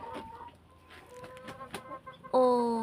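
A hen clucks repeatedly on a backyard farm, a run of short nearby clucks that ends in a louder, sustained squawk.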